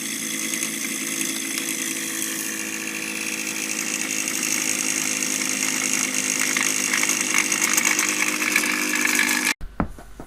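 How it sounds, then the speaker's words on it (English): A toy gyroscope spinning as a balanced rotating assembly produces a steady, buzzing whir with a bright whine that holds even and loud for about nine seconds, then cuts off abruptly into a brief clatter. "Using a toy gyroscope as our rotating assembly"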